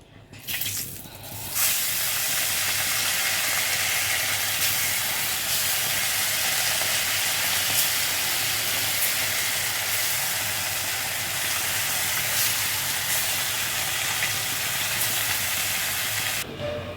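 Loud, steady sizzling and hissing of fish frying in hot oil, continuous from start to finish with a brief clatter at the beginning.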